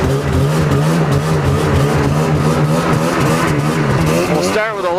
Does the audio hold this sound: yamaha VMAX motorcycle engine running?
yes